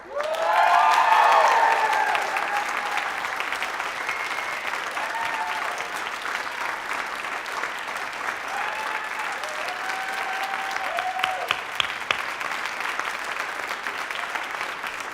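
Theatre audience applauding at the close of a school production of You're A Good Man, Charlie Brown, sustained dense clapping from a full house that starts loud and holds steady for the whole stretch.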